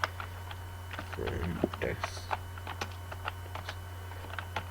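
Light, irregular keystrokes on a computer keyboard while a single-line code comment is entered, soft clicks spread across the moment over a steady low hum, with a brief voice partway through.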